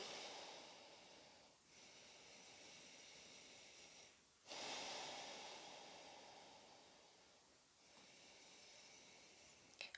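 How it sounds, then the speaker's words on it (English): Slow, deep breaths with a soft, airy hiss during a prenatal yoga downward dog pose, long inhales and exhales in a steady rhythm, close and quiet with no talking. "Breathing here."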